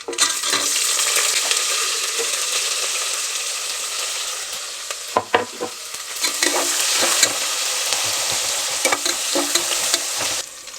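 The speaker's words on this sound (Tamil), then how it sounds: "வெங்காயம் வந்து ரொம்ப கோல்டன் ஃப்ரை வேணாம், ஓரளவுக்கு வதக்கினா போதும்" Dried red chillies and onions frying in hot oil with cumin and spices for a tempering, a loud continuous sizzle with scraping stirs and a few clattering knocks of the spoon, no talking.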